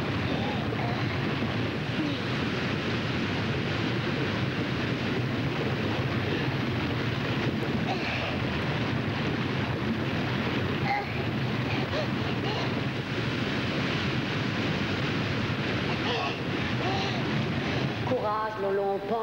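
Steady, dense roar of rushing water from a cascade, loud and continuous throughout with a broad wind-like hiss and no speech over it.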